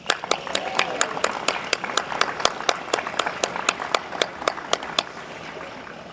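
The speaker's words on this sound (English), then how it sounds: "Let's give them another round of applause." A small crowd at an outdoor ceremony claps in sparse, distinct rhythmic beats, each clap sharp and clear, steady and moderately loud for several seconds.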